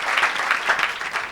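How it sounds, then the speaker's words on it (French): A church congregation applauding together, a steady rhythmic clapping close by that fills the short moment without pause. "you can put your hands together for the Lord"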